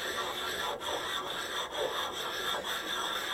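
Steady abrasive rubbing of a metal blade worked over the coarse side of a large flat oil stone lubricated with WD-40, a continuous close scraping hiss with slight rhythmic strokes and no talk.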